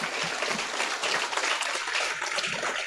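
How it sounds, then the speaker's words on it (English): Crowd applause at a school graduation ceremony in Vieux Fort, a dense wash of clapping that keeps up steadily and at even strength for about three seconds, with no voices on top. "Let us give Dr. Prosper a round of applause"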